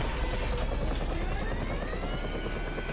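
Helicopter engine and rotor in the video game GTA 5, a steady loud whine and thrum held throughout without a break, with no talk over it.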